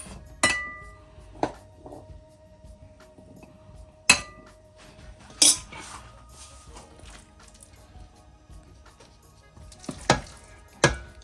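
Dishes and cutlery clink while a plate of sautéed shrimp with chickpeas and provisions is served, with several sharp separate clinks spaced irregularly over faint kitchen background, no talking.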